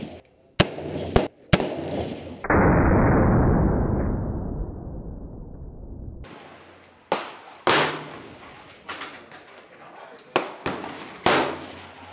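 AR-15 rifle shots, a string of sharp loud cracks at uneven intervals, most close and percussive, with a long rushing noise burst between early shots.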